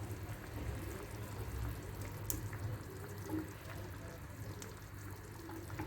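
Water trickles and splashes into a chicken and zucchini tajine, a soft, continuous pour heard quietly up close.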